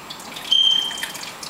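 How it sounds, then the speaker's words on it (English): Water splashes and trickles as it is poured off and set aside from boiled plantains for Dominican mangu. The pour is brief, soft and close, with a faint steady liquid hiss in a quiet kitchen. "Let me just reserve some water just in case I don't need all this water."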